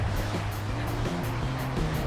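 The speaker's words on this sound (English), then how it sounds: "this is a little ridiculous how windy it is today" Strong outdoor wind roars steadily across the microphone, a constant low rumble with gusty buffeting and a faint tonal hum underneath, with no talking.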